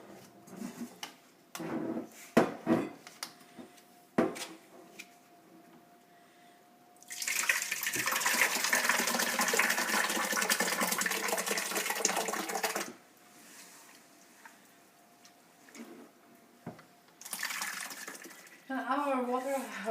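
Whey pours and splashes steadily from cheese through cheesecloth for several seconds, a loud rushing trickle, with scattered clatter and a voice talking before and after.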